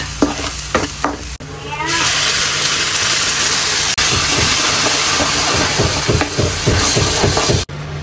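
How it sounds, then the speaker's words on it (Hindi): Masala spices frying loudly in a pan with chickpeas, a dense continuous sizzle broken by clinks and scrapes of a spoon stirring, close and steady. "तो मसाले को भूनने के लिए छोड़ देंगे"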